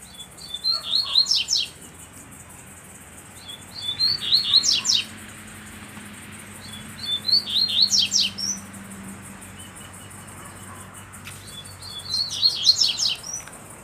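A double-collared seedeater (coleiro) sings in four short bright phrases of quick chirps, each about a second long and spaced a few seconds apart, over a faint steady background hum.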